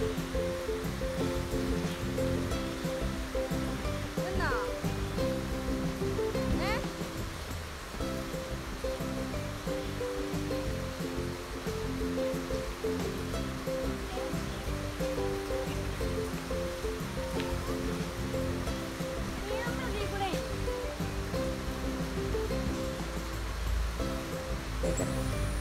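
A forest stream flows steadily over rocks, a continuous close rushing and gurgling of water that stays loud and even throughout, with no talking.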